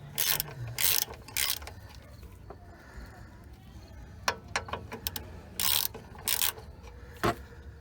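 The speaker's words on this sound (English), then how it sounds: "They're both 13 millimeter bolts, so we're using a 13 millimeter socket. He's taking out bolt number 1." A ratchet drives a 13 mm socket to remove a shock bolt on a 2000 Ford Ranger. It makes several short bursts of quick, close clicking against a steady outdoor background.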